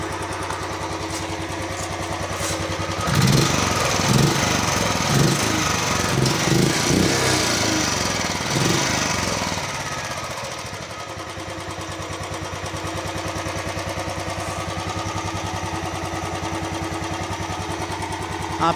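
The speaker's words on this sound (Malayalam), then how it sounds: "ആ പഴയ ബുള്ളറ്റിൻ്റെ സൗണ്ട് തന്നെയാണ് ഫ്യൂൽ ഇഞ്ചക്ഷനിലേക്ക് വന്നപ്പോഴും" A Royal Enfield Bullet 350 BS6 single-cylinder fuel-injected engine runs steadily nearby with an even, throbbing idle that swells louder for several seconds before settling back to a lower, constant thump.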